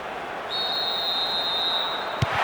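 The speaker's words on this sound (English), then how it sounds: "There's the whistle for the end of the first half" Referee's whistle blowing for the end of the first half in Pro Evolution Soccer 6, AC Milan against Arsenal: one long, steady, shrill blast held for well over a second above a constant crowd murmur, followed by a brief thud.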